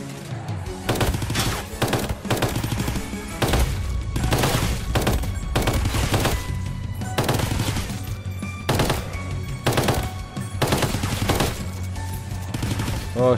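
Loud, continuous gunfire in the video game Outbreak 2030: rapid automatic bursts and repeated shots in quick succession, dense and close throughout, with no pauses.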